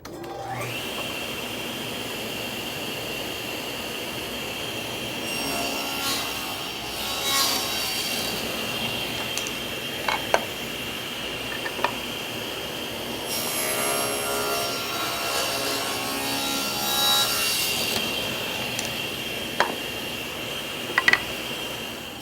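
A table saw cuts a slot in wooden drawer pieces, one pass per piece, its steady high whine running throughout and swelling in several separate cutting passes, with occasional clicks and knocks between them.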